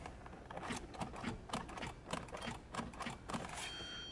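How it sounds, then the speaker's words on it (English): A 2013 Hyundai Sonata that won't start gives a rapid run of sharp mechanical clicks, evenly spaced and fairly close, repeating for several seconds with no engine catching. "Just clicks"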